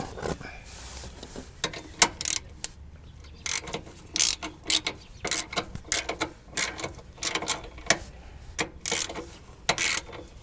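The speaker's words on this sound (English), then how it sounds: "So we're going to take a 15mm socket on a ratchet wrench." A ratchet wrench with a 15mm socket drives a thread-forming bolt into a Ford Transit bumper step, making repeated close clicking ratchet strokes in uneven bursts with metallic scraping between them.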